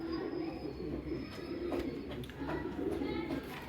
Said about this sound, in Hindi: ऊपर देख रहे हो माशाल्लाह से कितना सारा कबूतर है।